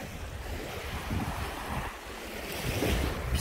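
Sea waves wash onto a shallow sandy beach on a quiet wild stretch of Crimean coast, a soft rolling surf mixed with wind noise buffeting the microphone.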